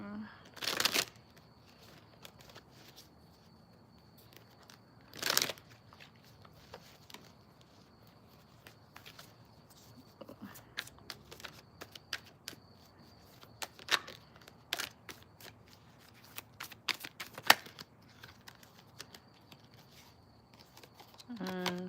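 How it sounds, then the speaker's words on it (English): A deck of tarot-style cards being cut and shuffled, with scattered riffles and flicks, a couple of louder shuffles early on and many quick card snaps later, all close and clear, while a person talks quietly. "And I just cut the deck."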